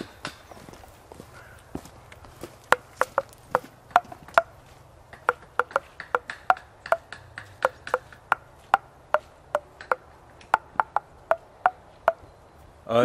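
Bright, hollow knocks are tapped out on a handmade wooden spoon in a quick melodic rhythm, about two dozen distinct clicks with short pauses between phrases, close and clear against a quiet background.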